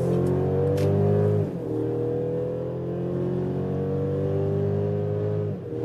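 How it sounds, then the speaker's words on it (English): Mercedes GLC in sport mode accelerating hard onto a motorway from 60 to 120 km/h, a steady loud engine drone with rising harmonics and a brief dip as it shifts gear, heard from inside the cabin. "then we can do first acceleration onto the motorway from 60 kilometers an hour"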